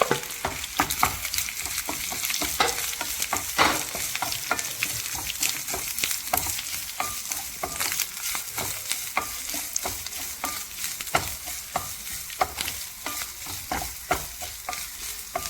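Grated coconut is dry-roasted in a pan, stirred continuously with a utensil; frequent sharp scraping clicks ride over a soft sizzling bed, close and fairly loud, with no speech.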